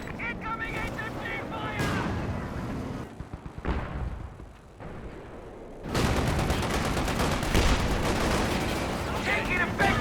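Company of Heroes 2 battle gunfire rattles on in dense bursts of rifle and machine-gun shots with heavy thuds, loud and continuous, easing off briefly before returning at full intensity, mixed with voices.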